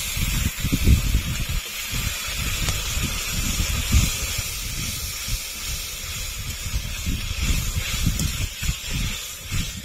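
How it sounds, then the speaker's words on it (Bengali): A ground paste of dried red chili and cumin hits hot oil along with spice-rinse water, giving a loud, steady, hissing sizzle with bubbling crackle throughout, close up and without speech. "এবার দিয়ে দেবো শুকনো লঙ্কা বাটা, জিরে বাটা, মশলা ধোয়া জল দিয়ে দেবো।"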